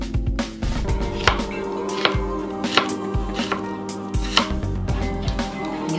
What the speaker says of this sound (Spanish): Y picamos.